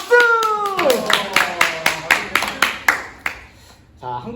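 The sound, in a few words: audience clapping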